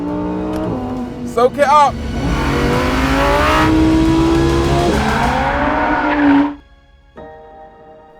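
Lamborghini Huracan Sterrato with a naturally aspirated engine, revving hard in a long, rising howl that cuts off sharply near the end, with a brief spoken phrase at the start.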